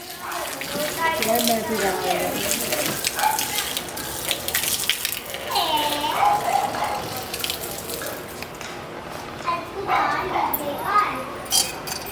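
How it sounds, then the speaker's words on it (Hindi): Water is poured into a flower pot at home, a running splashing stream close by under lively talk from women and children. "तो फिर गमले में चला जाएगा ना पानी"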